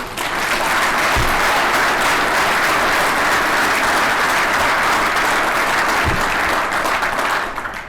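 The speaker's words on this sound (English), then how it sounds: "I'd like to get a round of applause for Tracy Butler, please" A dense, sustained round of applause from a large audience at an installation ceremony, loud and steady for several seconds before tapering off.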